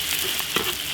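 Spices sizzling in hot oil in a wok while cooking a hot pot base, a close, steady frying crackle with a few brief pops and stirring sounds and no voices.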